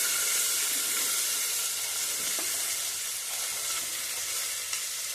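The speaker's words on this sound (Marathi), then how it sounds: "आता यामध्ये मी निवडून ठेवलेली गवार घालणार आहे." Cluster beans (gavar) are tipped into hot oil with turmeric in a single pot and give a steady, loud, close sizzle and hiss that carries on without a break.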